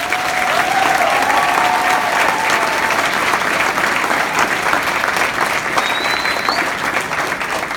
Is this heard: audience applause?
yes